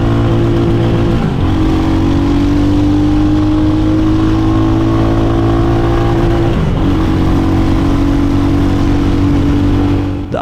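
A 2023 Royal Enfield Hunter 350 single-cylinder motorcycle revs hard against its 7,000 RPM limiter, a loud sustained engine drone holding a steady high pitch with brief dips as it bounces off the cutoff.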